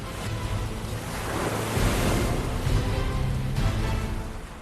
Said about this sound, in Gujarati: ગુજરાતનો દરિયો હાલથી જ તોફાને ચઢી ગયો છે